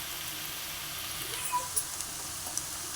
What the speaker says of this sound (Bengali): এবার আমি আদা রসুন পেস্টটা দিয়ে দেবো